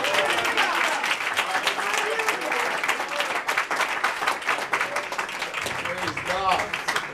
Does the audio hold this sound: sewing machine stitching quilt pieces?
no